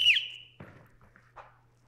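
A single sharp whistle is blown to start a security tryout drill, followed by a few soft thumps and shuffling steps.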